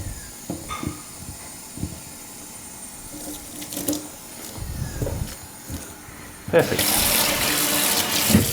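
Tap water pours into a sink to soak postage stamps, rising into a loud, steady gush near the end after some handling clatter, with brief talk at close range.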